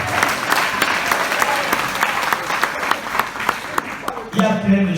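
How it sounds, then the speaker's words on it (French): A congregation or audience breaks into applause, dense steady clapping with scattered sharper claps that runs for several seconds before fading as a voice begins speaking near the end. "tu dois applaudir pour ça."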